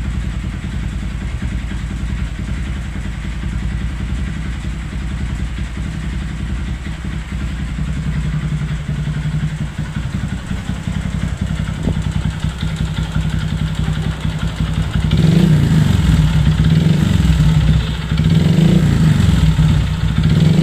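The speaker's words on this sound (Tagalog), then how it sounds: "So motor niya is Shooter 115. So ang problema, may ingay sa makina." Honda Shooter 115 motorcycle engine with a noisy connecting rod, running with a steady close rumble and knocking clatter, then revved in several rising and falling surges near the end.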